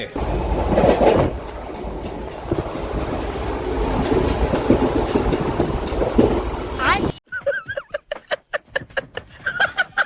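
The Secunderabad to Repalle express train runs at speed, a loud rushing rumble with clattering wheel beats for about seven seconds, then quieter rhythmic clicks and knocks.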